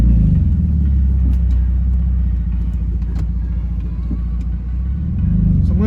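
A BMW E46 with the M54 straight-six, catless headers and straight-piped exhaust rumbles deep and loud at low driving speed, a steady throaty drone with slight swells in revs.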